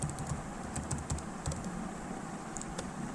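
Rapid, light clicking of keys on a computer keyboard as an email address is typed, quiet and close, with irregular bursts of taps and no talk.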